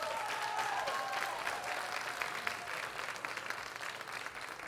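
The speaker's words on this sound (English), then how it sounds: "Everybody give him a big round of applause." Sustained crowd applause at a political town hall with a teachers' union, steady and dense from a large audience, holding at an even level throughout with no talking over it.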